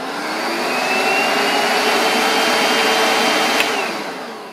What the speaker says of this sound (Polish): Jeżeli chodzi o jego hałas, to nie mam jakichś zastrzeżeń. Normalnie odkurzacz jak odkurzacz.